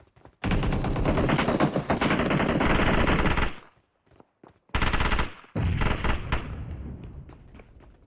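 Sustained automatic gunfire from PUBG Mobile hammers loudly in long, dense bursts, broken by a short silence and a few isolated shots before another fierce volley that trails off.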